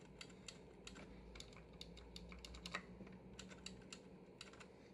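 Acer semi-mechanical keyboard keys click at an uneven typing pace, producing sharp, fairly quiet individual clicks over a low background hum, with no talking.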